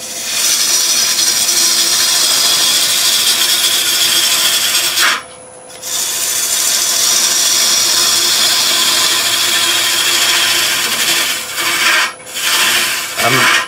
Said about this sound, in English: let's just go to a smaller gouge just for the minute